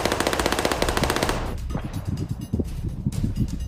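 Loud rapid machine-gun fire in the sandbox video game Melon Playground: a dense continuous burst for about a second and a half, then scattered shots trailing off.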